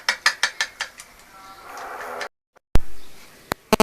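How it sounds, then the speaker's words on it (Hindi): Egg being beaten in a bowl: a run of quick, sharp metallic clicks, then a scraping whisk stroke, a pause, and a few more bright taps against the bowl rim, close and loud. "अंडे को मैं फेंट लूँगी।"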